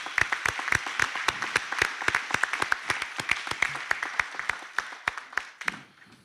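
Graduation-ceremony audience applauding the graduates; a modest crowd's clapping with distinct individual claps, steady through the clip and thinning out toward the end.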